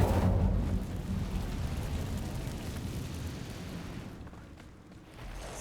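An Incendio fire spell goes off in Hogwarts Legacy as a loud whooshing burst of roaring flame, loudest at the start and then fading into a sustained rumble with no one talking.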